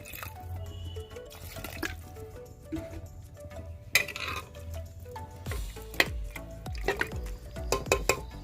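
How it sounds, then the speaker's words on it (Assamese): Hot water poured into a cooking pot of half-boiled local chicken in an Assamese home kitchen, a soft running splash with drips and clinks, building toward louder splashing near the end. "আৰু এতিয়া মই ইয়াত গৰম পানী দি দিম।"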